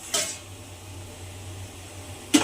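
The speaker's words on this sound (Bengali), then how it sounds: "এইবারে আমি ঢাকাটা খুলে নেব।" A metal lid clanks twice, lifting and setting down, on a pot steaming bhapa puli pitha, with a steady low hum from the gas stove in between.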